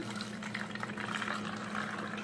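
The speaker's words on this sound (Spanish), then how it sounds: "Vamos a agregarle el agua." Water poured through a small funnel into a vinegar cleaning mixture for bathroom cleaning, a steady continuous trickle and splash close by, with a low hum running underneath throughout.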